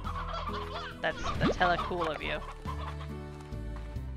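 Chickens cluck in the Slime Rancher game, several short clucks and squawks over background music while a person talks.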